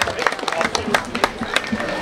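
Brief applause from an outdoor audience at a fish soup cooking contest at Balatonszepezd, Hungary, with scattered irregular claps at moderate distance, thin rather than a full ovation, and crowd murmur beneath.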